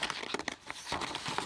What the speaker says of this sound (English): I'm just going to now quickly cut out a couple of bits from this page